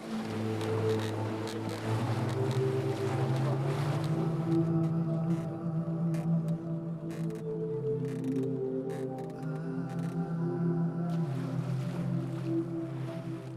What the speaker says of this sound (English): As we traveled around the island in one of Aj's Umiaks